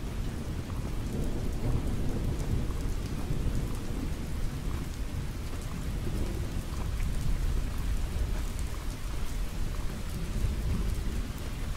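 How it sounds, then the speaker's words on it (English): Steady heavy rain in a video game, a dense unbroken roar of downpour with low rumbling underneath, constant and loud throughout with no talking. "I like the impediment of the rain. The rain is super cool."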